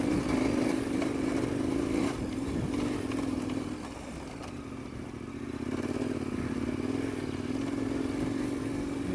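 A KTM 1090 Adventure R motorcycle being ridden, a steady loud engine drone with wind rumble that eases slightly midway, then holds at a constant cruising pitch.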